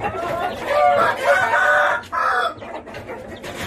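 Three-day-old chicks peeping in a dense, steady chorus of high chirps, close and fairly loud, with no talking over them.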